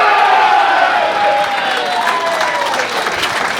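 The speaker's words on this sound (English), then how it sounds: "And you can hear the crowd. They're going off." Supporters of a Victorian player cheer and applaud loudly at an 8-ball pool semi-final, a dense, sustained wash of clapping and whoops filling the hall.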